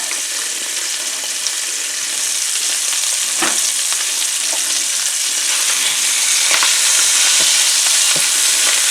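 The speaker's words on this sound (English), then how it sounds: "we're going to throw a pound of breakfast sausage in the frying pan here and brown that up." A pound of breakfast sausage browns in a frying pan, sizzling loudly with a constant crackling hiss punctuated by occasional scrapes and clicks as it is stirred and broken up.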